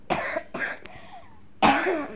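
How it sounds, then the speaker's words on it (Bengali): A person gives three coughs in quick succession: two short, close coughs, then a louder, harsher one after a brief pause. "কাশি তো সেই সকাল থেকে"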